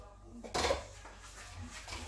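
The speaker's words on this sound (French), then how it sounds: "Maintenant, je vais prendre un petit bol comme ça." A small bowl is lifted from among kitchen dishes with one brief ceramic clatter, close by, while someone talks over it.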